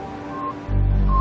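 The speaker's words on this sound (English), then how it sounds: "This is the sound of Sputnik." Beeping from the Sputnik satellite's radio: brief electronic tones over crackling static, followed by a loud, steady low buzz.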